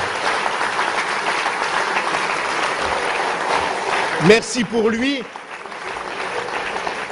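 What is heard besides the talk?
audience applause at political speech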